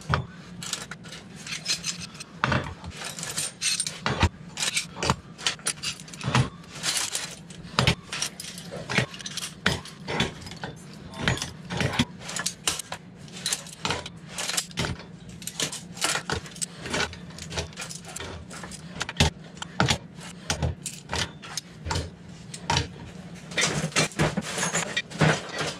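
Metal welding clamps are loaded one after another onto a welding clamp rack, giving a steady run of clanks, rattles and jangling metal contact that stays close and fairly loud throughout, with no talking.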